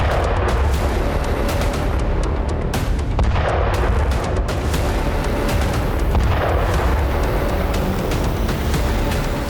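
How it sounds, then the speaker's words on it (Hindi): Bombing in Gaza: a dense, continuous rumble of heavy blasts and booming impacts, loud and close, with repeated low thuds layered over sustained roaring noise. "चौबीस घंटे के अंदर गाजा में इजराइल ने जबरदस्त बमबारी की।"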